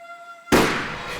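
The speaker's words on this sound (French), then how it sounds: "On aurait dit un coup de feu." A single loud, sudden blast cuts through a quiet background with a faint tone, followed by a long, noisy rumbling decay.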